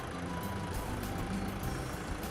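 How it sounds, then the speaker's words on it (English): Continuous truck noise from the background of the video game Robotics;Notes: a dense, unbroken rumble and hiss that stays loud and even throughout, with no pauses. "this background noise of the truck is annoying"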